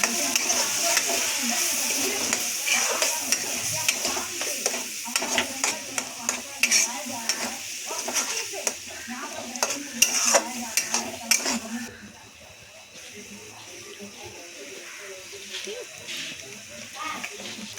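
A spoon stirs South Indian sambar dal with coconut-onion paste and turmeric in a frying pan, giving repeated scraping clinks and soft sizzling, with a person talking intermittently over it.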